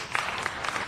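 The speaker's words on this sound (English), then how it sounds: "It's nice to be applauded." Audience applause in a committee hearing chamber, a short burst of steady clapping at moderate loudness with no talking over it.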